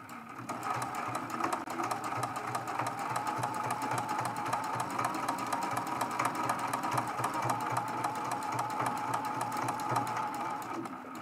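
A sewing machine stitches a quilted cathedral window ornament with a fast, steady whir and needle chatter that runs continuously at close range, without talk.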